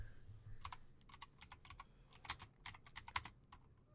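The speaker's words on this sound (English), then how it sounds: "I am so good at typing in the number for that one" A number is typed on a computer keyboard in quick, uneven bursts of soft clicking keystrokes, close and quiet, with no one speaking.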